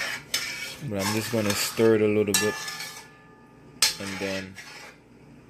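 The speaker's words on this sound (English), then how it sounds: "I'm just gonna stir it a little bit" Metal cutlery scrapes and clinks against a pot while Irish moss is stirred, in several short ringing strokes. A voice speaks briefly between them.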